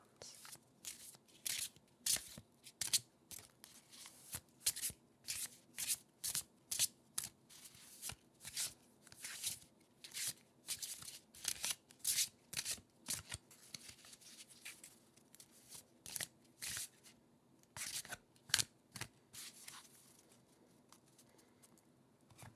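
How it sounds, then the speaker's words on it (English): Quick bursts of Magic: The Gathering trading cards being riffled and shuffled, repeated many times with short pauses between, close and crisp. "Let's get some shuffle sounds."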